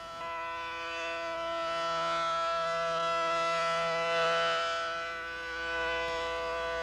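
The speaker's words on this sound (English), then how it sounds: "The outdoor warning sirens will alert the public to tune in to NOAA Weather Radio." An outdoor civil defense warning siren wails steadily, its tone swelling and fading slightly as it rotates, sounding distant and sustained.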